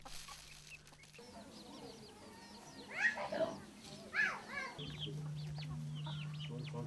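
Backyard village poultry cluck in a few short bursts that are close and moderately loud, set against a quiet background hum, with a voice speaking softly in places.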